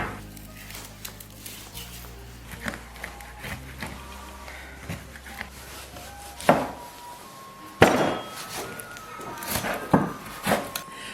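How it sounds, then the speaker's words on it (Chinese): A knife and cleaver work on pork hocks in a home kitchen, with knocks of the blade against a wooden cutting board, soft squishy cuts and a few sharper taps, close and irregular, alone without talk. "现在把肉剔出来。"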